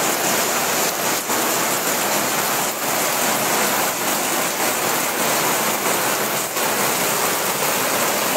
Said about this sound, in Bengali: মুষলধারে বৃষ্টি দেখতে পাচ্ছি।